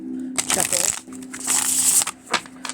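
A Soul Cats Tarot deck from Llewellyn being shuffled close up, with two quick bursts of riffling, papery card noise separated by a short pause, over a faint low hum.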